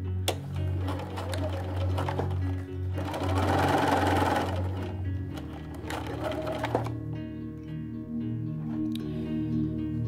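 A sewing machine runs in bursts as it stitches fabric hexagon seams, its motor whirring and needle clattering rapidly, stopping and restarting at close range with no talk.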